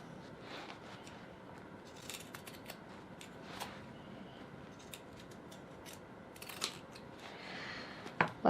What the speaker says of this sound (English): go around the curved areas with the pinking shears, making sure not to snip into the